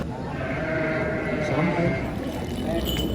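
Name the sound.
Garut sheep bleating at livestock market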